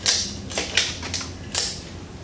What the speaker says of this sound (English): So I'm just going to ratchet it a few times.